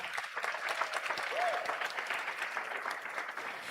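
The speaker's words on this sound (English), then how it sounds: "let's clap it up for that part" Graduation audience at Edison Career and Technology High School applauding in a sustained burst of dense clapping that fills the hall at steady loudness from start to finish.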